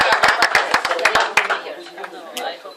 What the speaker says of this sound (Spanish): Sí, tenemos que aplaudir.